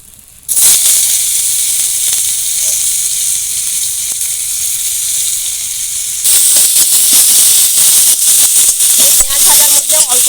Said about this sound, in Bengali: পেঁয়াজগুলো এরকম লাল লাল করে একটু ভেজে নিয়েছি